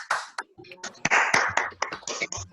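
Several people clap in a Rotary club meeting held online, giving scattered, uneven applause over a connection. The claps are sharp and irregular, and some overlap.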